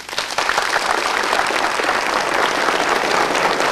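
Studio audience applause on an Indonesian health talk show, a dense, even roar of clapping starting abruptly and holding steady throughout.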